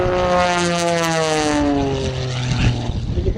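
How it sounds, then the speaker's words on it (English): An aerobatic propeller airplane flies past at an airshow, its loud droning engine and prop sweeping downward in pitch as it passes close by and recedes, with no other sounds over it. "And you can hear that prop."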